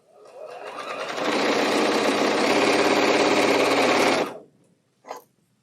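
A sewing machine runs quilt block pieces through in one fast, even burst of close, whirring needle chatter for about three seconds, then stops, followed by a brief click.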